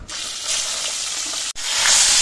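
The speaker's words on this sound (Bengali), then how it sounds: "মাছটা ভাজা হয়ে গেছে, এবার মাছের মাথাটা ভেজে নেব। ওই তেলেই মাছের মাথাটাও ভেজে নেব।" A rohu fish head frying in hot oil makes a loud, dense, crackling sizzle, with a momentary break partway through before the spitting resumes even stronger.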